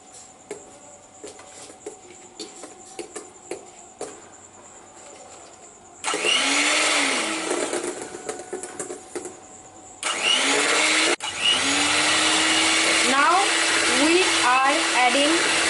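Electric mixer whirring through cake batter for a layer cake, switching on in two loud bursts with a brief pause between, after a quieter stretch of clicks and light handling.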